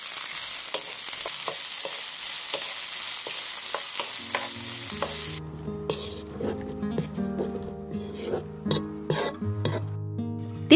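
Green beans stir-fried in a hot pan with sausage and carrot, giving a loud steady sizzle at first. Rhythmic scraping and clattering of a utensil against the pan follows, with no voices.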